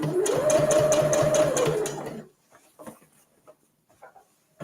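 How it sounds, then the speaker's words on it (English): A sewing machine topstitches fabric for a reusable gift bag, giving a close steady whirring buzz for about two seconds before stopping, followed by faint handling clicks and rustles. "Lower your stitching speed if you need to get nice, even top stitching."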